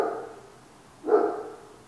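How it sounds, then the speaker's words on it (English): A neighbor's dog downstairs gives a single muffled bark, faint and distant through the floor, after a quiet stretch. "that's my neighbor dog downstairs. He barks at everything"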